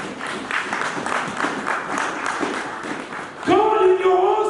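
A church congregation applauds together, steady clapping filling the room for a few seconds before a voice begins speaking or singing over it near the end.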